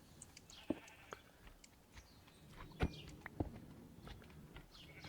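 Sheep in a Minecraft wool farm let out a few short, quiet bleats spaced apart, along with light footstep-like taps and faint background game noise.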